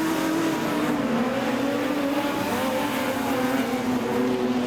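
Production sedans roaring at Kingaroy Speedway as a race restarts, a loud continuous wall of engine drone from the pack with steady revving and no pauses.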